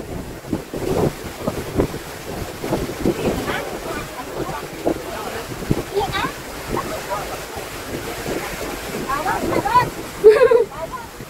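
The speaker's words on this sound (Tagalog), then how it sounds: "Ayun, may barko." Boat on open water near a waterfall, with wind buffeting the microphone and waves lapping throughout, plus scattered voices in the background.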